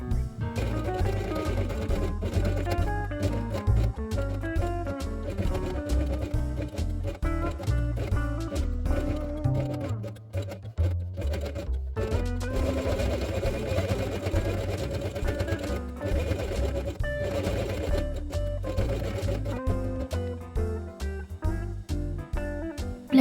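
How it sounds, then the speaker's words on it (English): A sewing machine stitches felt with orange thread for a dog quiet book page, running a steady, even mechanical whir that keeps going close by and dips briefly about halfway through. "Sew it along the drawn line using orange thread."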